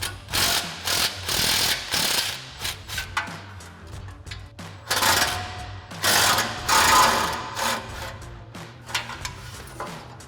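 An impact wrench with a 13 mm swivel socket and extension unbolts two exhaust hanger nuts under a GMC Sierra 1500 pickup. It fires repeated loud bursts of rattling hammering, with short pauses between them, close up and with no talk.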